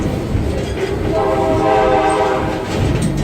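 A Stone Mountain excursion train runs close by, a loud continuous rumble and rolling rail noise with a faint tonal horn-like band in the middle.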